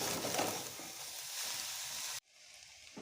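Boiled veg chow mein being tossed with fried vegetables and broccoli in a hot pan, a steady loud sizzle and scraping stir that cuts off abruptly, leaving a fainter hiss.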